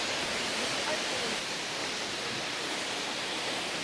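A waterfall at Theth in Albania's mountains rushes as a constant, even roar of falling water, steady and fairly close throughout.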